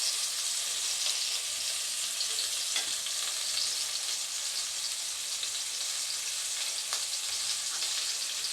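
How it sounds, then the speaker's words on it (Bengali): Potatoes and vegetables for a jackfruit-potato curry fry in hot oil in a pan, giving a constant close, even sizzle with faint crackles and no talking. "এগুলো একটু ভালো করে ভেজে নিই।"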